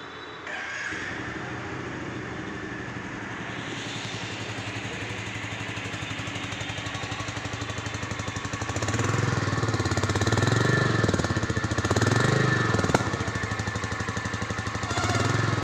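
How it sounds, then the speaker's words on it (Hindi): A 2024 Royal Enfield Meteor 350 E20 motorcycle idles with a steady thumping exhaust note, then the revs rise and hold louder near the end, close and alone. "अब मैं आपको इस गाड़ी के ना एग्जॉस्ट का नोट सुनाता हूँ"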